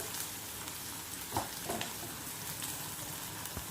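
Dried red chilies, sliced onions, green chilies and urad dal fry in hot oil with a steady, dense sizzle, broken by a few soft stirring knocks.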